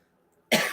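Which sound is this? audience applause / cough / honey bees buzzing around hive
cough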